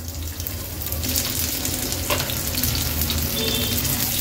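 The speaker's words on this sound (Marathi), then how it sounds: "कांदा थोडासा तेलावर असा परतून घ्यायचा आहे आपल्याला" Onion sautéing in a little oil in a pan: a loud, continuous close sizzle with light stirring scrapes, no voices.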